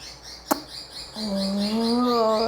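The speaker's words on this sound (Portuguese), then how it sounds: "Esse é o barulho dos passarinhos." A sharp click, then a sustained high warbling chirp that rises and holds, close and fairly loud, like small birds.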